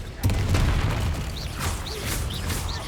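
A Confringo fire spell from Hogwarts Legacy bursts with a single boom early on, then a lingering rumbling blast tail with faint crackles as the explosion decays.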